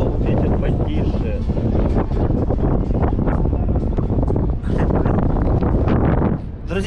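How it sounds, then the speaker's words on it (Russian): Strong wind buffets a microphone on a hilltop, a loud continuous roar with gusty swells. The hilltop has parking and old, rickety cable-car cabins. It briefly dips near the end. "здесь наверху сильный ветер"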